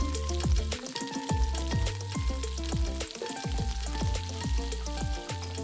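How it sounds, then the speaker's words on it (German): Diced white onion and peeled garlic cloves sweat gently in a pot, giving a continuous soft sizzle with scattered crackles and no talk. "Anschließend gibst du eine grob gewürfelte weiße Zwiebel und 5 bis 8 geschälte Knoblauchzehen dazu und lässt alles sanft schwitzen"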